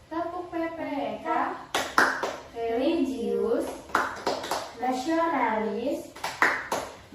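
Schoolchildren in a classroom clap a rhythmic chant in short bursts of sharp, near claps between lines of chanted speech.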